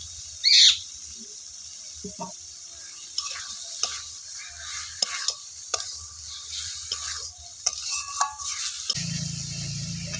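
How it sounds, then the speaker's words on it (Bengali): Fried potatoes added to a fish curry masala and stirred in a pan, with soft sizzling and intermittent scraping of a spatula against the metal, close and moderately quiet, plus a brief high chirp early on. "এবার এর মধ্যে আমি ভেজে রাখা আলুগুলো দিয়ে দিচ্ছি"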